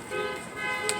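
Car horns honking past a political rally in Salem, Oregon, heard as a brief tonal toot under crowd noise.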